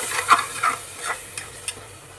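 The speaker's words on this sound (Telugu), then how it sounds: "పెరుగు కూడా వేసుకున్నాక బాగా కలుపుకోండి." Mutton biryani mixture being stirred right after yogurt goes in, giving a few soft wet scraping strokes with light sizzling between them, close and fairly quiet, no voices.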